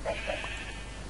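A sheep in the Minecraft video game gives two short bleats close together at the start, followed by faint game ambience.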